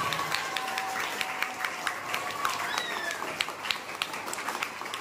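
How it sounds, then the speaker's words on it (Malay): An audience in a school hall gives a speaker from the Malaysian Prisons Department a round of applause, dense sustained clapping from many hands, close and fairly loud, with a few faint voices in the crowd. "Sekali lagi berikan satu tepukan berpenuh kepada penceramah kita."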